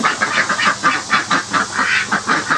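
Several ducks quack in a repeated, evenly spaced rhythm, close by and fairly loud, with a faint hiss running underneath.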